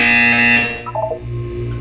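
A single loud electronic buzzer tone in Portal 2, a harsh sustained buzz that cuts off after about a second, followed by quieter tonal sounds.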